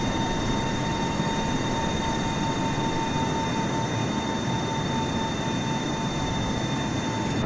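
Engines of an IL-96 airliner in a flight simulator game, a constant, dense broadband roar with a few steady whining tones running throughout, unchanging in level and heard alone without talk.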